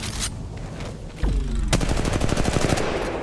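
Automatic-weapon fire in the mobile battle royale Apex Legends Mobile: a short burst, then a pause with a descending game effect, then a long rapid stream of loud, evenly spaced shots, with no talk.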